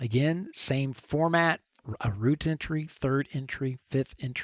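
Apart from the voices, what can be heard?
None of the usual background noises is heard.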